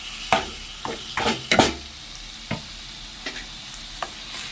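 Country chicken pieces and tomatoes fry in a pan under a steady sizzle, while a spoon stirs and scrapes in several distinct strokes, louder at first and then sparser.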